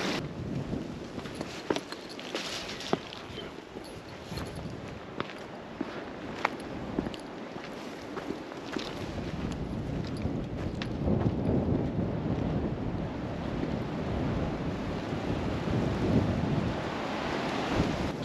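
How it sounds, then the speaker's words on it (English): Strong wind roars and buffets the microphone at night on Pendle Hill, a constant rough rush with gusts that swell louder toward the end, broken by scattered knocks and rustles, with no talking. "very windy though, so you should be able to hear me okay"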